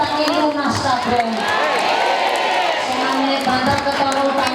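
An audience at an Islamic religious gathering claps and cheers for the organizing committee of a mosque-building effort, a loud crowd roar with whoops, while a voice carries on speaking over the noise.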